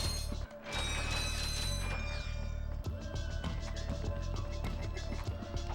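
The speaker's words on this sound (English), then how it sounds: "Oh, that's an elevator." An elevator mechanism in Ratchet & Clank grinding and clanking with ratcheting gear sounds, a steady mechanical rumble with metallic clicks and a whirring start, fairly loud and continuous.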